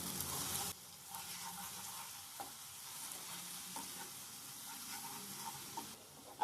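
Onion masala mixed with salt fries in a pan for a doi katla fish curry, a soft steady sizzle under scraping stirs with occasional knocks of the spatula.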